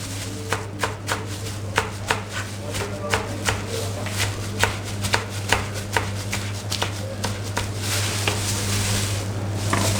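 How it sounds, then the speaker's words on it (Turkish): Steady knife chopping vegetables on a cutting board, quick irregular taps close by over a constant low hum. "Sebzeleri doğrayacağız şimdi."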